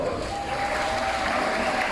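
Audience applause fills a Shedd Aquarium show in Chicago, a steady wash of clapping from a crowd held at an even level throughout, with no one speaking over it.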